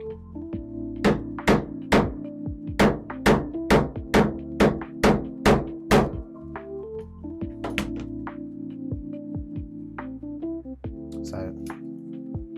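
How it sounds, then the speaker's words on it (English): A hand tool set is struck with a hammer to drive a dome stud into place, about a dozen sharp, evenly spaced metallic blows close up, followed by a few lighter, scattered taps. "we're going to hammer this down, trying to make sure we keep this as straight as we can."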